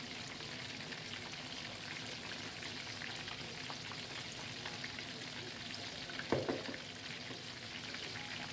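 Chicken wings fry in a little oil, a steady dense crackling sizzle throughout, with a brief stirring clatter near the end and no voices.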